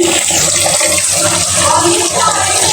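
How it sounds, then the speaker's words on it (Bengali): Three kilograms of rice are washed with water in a cooking pot, giving a loud, close, continuous rush of splashing, swirling water. "এই যে চাল ধুয়ে নিচ্ছি চাল এখানে তিন কেজি চাল ধুয়ে নিচ্ছি"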